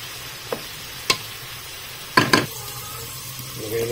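Tomatoes cook in a pot for miso sinigang, a soft bubbling simmer broken by several sharp clinks and scrapes of a utensil against the pot, without any talking.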